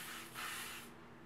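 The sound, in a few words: hair shaping spray being sprayed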